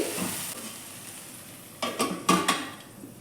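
Okra with lemon juice frying in a pan, a soft steady sizzle with a few sharp scraping stirs near the end, close and clear with no talking.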